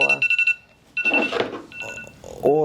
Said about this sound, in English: alarm going off,